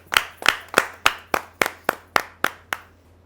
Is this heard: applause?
yes